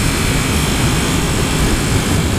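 A 2015 Yamaha R1 sport bike pulls hard in third gear, its engine a steady, loud, broadband roar dominated by low rumble and wind rush, continuous throughout with no voices.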